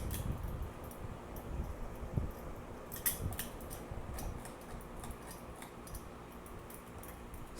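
A vintage Moss Tropical Breeze ceiling fan winds down with faint, irregular ticking and clicking over a low, steady background hum.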